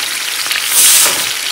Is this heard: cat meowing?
no